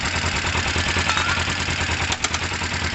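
Engine of a Kawasaki ER-5 motorcycle running at a steady idle, a loud close rumble with an even low pulse throughout, heard alone.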